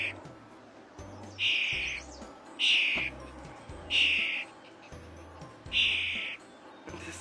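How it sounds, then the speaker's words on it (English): Birds call outdoors in a regular rhythm: five bright, fairly loud calls at roughly one-second intervals, each short and clear above a low background murmur. "there's some birds over there."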